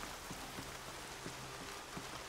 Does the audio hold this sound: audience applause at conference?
no